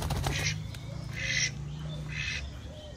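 Domestic native ducks, including a drake, give three short nasal quacking calls at even intervals, close by, over low background noise and a faint hum.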